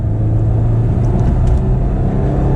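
A Honda S2000 AP2 engine revs hard toward 9,000 RPM, a loud, close, sustained high-revving engine drone with a steady rumble and no talk.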